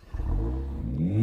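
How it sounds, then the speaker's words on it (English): Four-cylinder engine of a Mercedes-AMG A45 S catching and revving, a quick start followed by a rising, harmonically rich rev heard close. "Go on, start the Mercedes."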